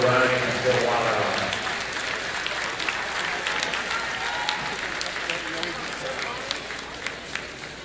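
Crowd applause for senior cheerleaders and dance team members at a boys varsity basketball game between the LaPorte Slicers and Merrillville Pirates, steady dense clapping in a gym with an announcer's voice over the start.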